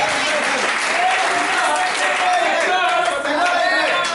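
A church congregation applauds during a French-language sermon, steady dense clapping from many hands sustained throughout at fairly even loudness.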